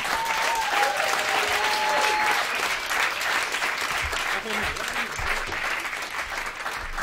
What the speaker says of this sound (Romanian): Mulțumesc pentru aplauze, oameni buni.